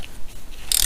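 A ratchet snugs clutch cover bolts on a 2008 Yamaha Raptor 250 ATV, with quiet mechanical clicks followed by a louder, brighter burst of rapid ratcheting at the end, close and without speech.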